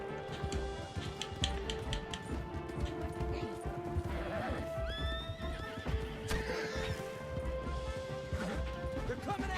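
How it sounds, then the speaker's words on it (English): A horse's hooves clip-clop quickly while it neighs and whinnies twice in Red Dead Redemption 2, with crashing game-style sound effects in the background. "We got a horse."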